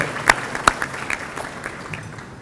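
Guests at an evening celebration dinner clap, a few loud, sharp claps standing out nearby over a thinning spatter of applause that fades away.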